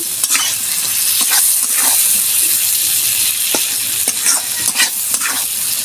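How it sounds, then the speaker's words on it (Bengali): Spices stir-fried in a pan for a panch phoron tengra fish curry, giving a loud, steady sizzle broken by repeated scraping strokes of a spatula, close and without talk. "ভালো করে আমি কষবো কোনো বাটা মশলা দেব না"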